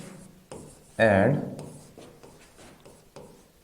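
Chalk or marker scratching across a board in short strokes, close and moderately loud, with a teacher's voice speaking briefly over it.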